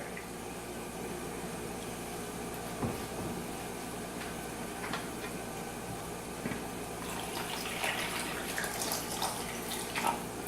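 Two cups of water pour steadily into a turkey roasting pan with a continuous rushing splash that grows a little busier toward the end, with no one speaking.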